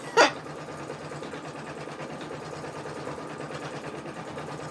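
An embroidery machine stitches out a number design on a tee, giving a steady close mechanical whir with a fine rapid buzz and one brief sharp knock near the start.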